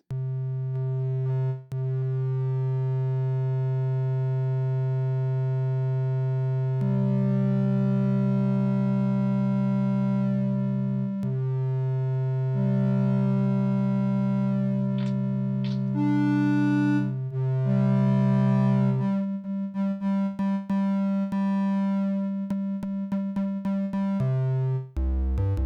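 A sustained Waldorf M synthesizer tone whose brightness slowly rises and falls back under a filter envelope, with shifting pitches and layered harmonics, played alone and moderately loud for the full length.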